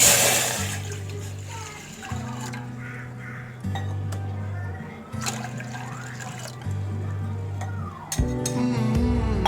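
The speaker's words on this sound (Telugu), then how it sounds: "ఇప్పుడు స్టవ్ ఆన్ చేసుకొని 2 గ్లాసెస్ వాటర్ని దీంట్లో వేసేసుకుందాం" Two glasses of water go into a pan on a lit stove for a milk powder kalakand, giving a steady pouring and splashing sound in repeated bursts with light clinks of the pan.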